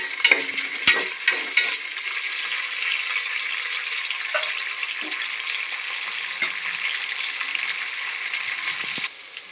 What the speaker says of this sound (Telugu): ఇక్కడ మనకు ఆనియన్ గోలుతుంది కదా